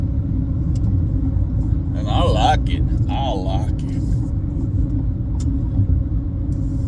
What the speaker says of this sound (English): I'm in this new Ford Maverick